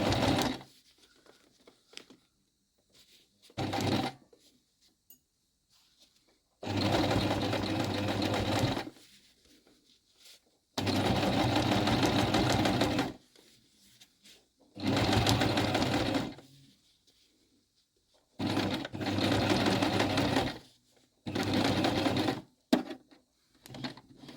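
A sewing machine tacks a coat lining inside the seam allowance while a welt pocket is made, running in about seven separate bursts of steady, close-up whirring with quiet pauses between them.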